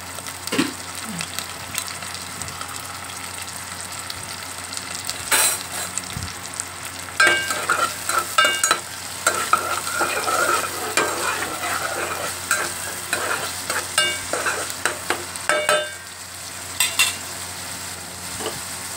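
Green chillies, onions and curry leaves frying and being stirred in a pan for a curry, with a steady sizzle broken by scraping stirs and utensil knocks throughout.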